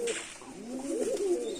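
Giribaz pigeons of a light biscuit colour coo close by, a short soft burbling call rising and falling over barely a second and a half.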